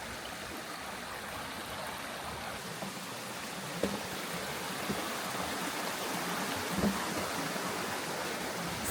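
A flowing stream beside an Appalachian Trail path, a steady rushing and burbling of water, fairly soft and continuous, with a couple of faint knocks and no talk.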